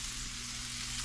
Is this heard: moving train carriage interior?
no